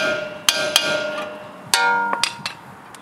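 Metal tools tapping on the front lower control arm of a Mercedes C63 AMG during a wheel bearing change: a handful of sharp, ringing metallic strikes, irregularly spaced and close by, with no talk.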